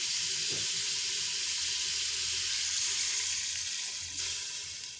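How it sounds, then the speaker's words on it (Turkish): Water pours steadily from a kitchen tap into a cooking pot of madımak stew with bone-in meat, a continuous hissing rush that holds for the full span, then eases slightly near the end. "500 gram kadar su ekleyelim"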